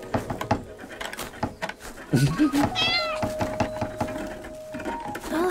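A cat meows in a video game, a short high-pitched cry midway through, over ambient game music and other background sounds.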